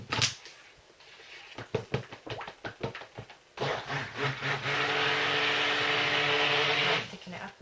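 A stick blender starts in short bursts then runs steadily with a loud whirring drone, mixing maple honey oats cold process soap batter, with talk heard in the early part.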